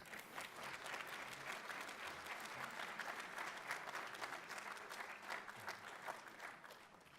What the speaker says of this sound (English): how about a round of applause for Congresswoman Sheila Jackson Lee?